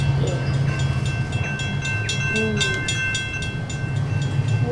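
A train in the video game Rolling Line rumbling along steadily with a low mechanical drone, faint rhythmic clicks and a brief higher tone, no talking.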